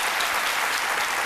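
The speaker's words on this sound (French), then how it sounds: "on vous applaudit très fort" Dense, loud applause from a studio audience fills the whole moment, continuous and even, on a French midday TV show.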